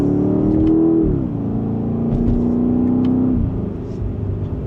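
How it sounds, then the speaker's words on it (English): 2026 BMW X5M Competition in Sport Plus mode accelerating in second gear, a loud, close engine drone and rumble with the pitch climbing, dipping at a shift, then climbing again before settling. "And a minor acceleration"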